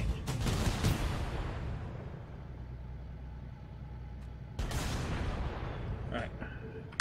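A tank firing in the video game Halo: Combat Evolved, with a few loud, heavy blasts and rumbling engine noise, while voices talk in the background.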